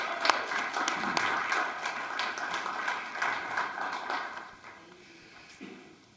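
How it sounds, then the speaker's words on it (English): A church congregation at a Sunday celebration service claps in a burst of applause, many hands rattling loudly at first, then thinning out and fading to a few scattered claps. "let's give them a round of applause again"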